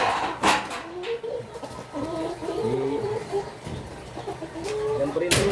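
Farmyard chickens cluck and call repeatedly at close range, with a rooster-like cry among the bird sounds over a busy background; a brief voice is faintly present.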